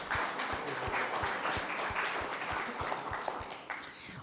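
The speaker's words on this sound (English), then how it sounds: "So give our friends from City 4, Ronaldo here, a nice round of applause." An audience at a Safe Streets coalition meeting claps for a guest, steady applause from many hands with a few sharper individual claps standing out, lasting throughout.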